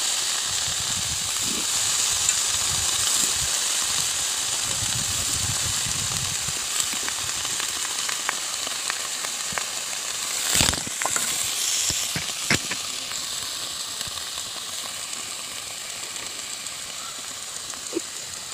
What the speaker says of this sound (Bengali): এই যে আলু বেগুন ধুয়ে দিয়ে দিয়েছি কড়াইতে